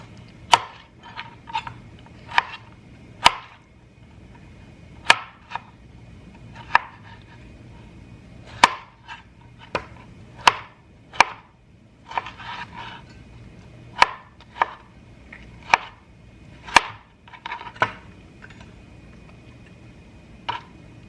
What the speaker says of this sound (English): I need 9 cups of tomatoes, so I'm just gonna chop, put in here